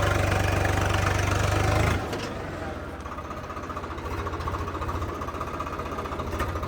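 A Swaraj 855 tractor engine runs close by with a loud, steady low throb, louder for the first two seconds and then settling into a rhythmic idle.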